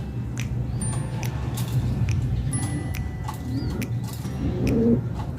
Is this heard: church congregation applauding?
no